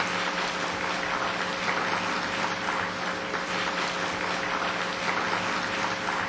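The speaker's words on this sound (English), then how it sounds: "Let's give her a big round of applause." An audience at a book launch event in Fountain Valley, California, applauds with sustained, dense clapping from many hands, steady and continuous throughout with a faint constant hum underneath.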